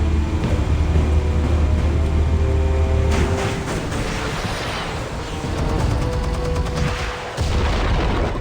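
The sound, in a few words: explosives fired, from the video game Batman: The Telltale Series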